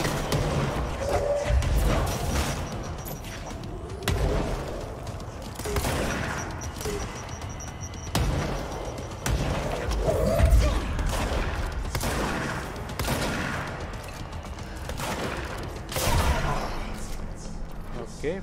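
Gunfire and destruction from the video game Control: repeated loud bursts of shots and crashing debris come in waves, with a voice talking underneath at times.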